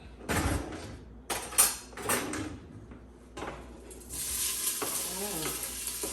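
Oil crackles and sizzles after a few stirring clatters as seasoning sautés in a pot on low flame for Jamaican curried goat, the frying hiss growing steady and close in the second half.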